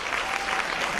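Dense, steady applause from an audience at a business seminar, a continuous wash of many hands clapping at moderate loudness with no voices over it.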